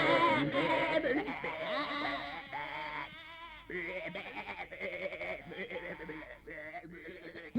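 Bleating sheep around a hill farm in a cartoon setting, several wavering calls close together and fairly loud, mixed with voices and background music.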